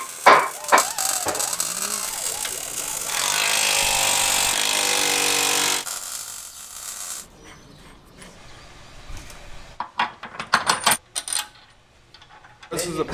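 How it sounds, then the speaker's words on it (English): A power drill whines steadily for a few seconds drilling holes in metal on a Ford Bronco, then stops, followed by scattered metallic clanks and tool rattles. "then we'll have to drill out new holes on the side of each side"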